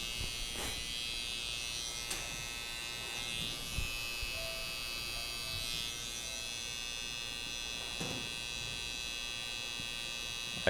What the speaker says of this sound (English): These are the Babless trimmers, actually.